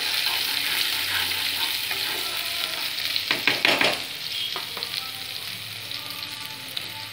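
Spring onion whites, garlic and grated ginger sizzle steadily in hot oil in a home kitchen, a loud continuous frying hiss with a cluster of sharp stirring scrapes and clatters in the middle, no voices.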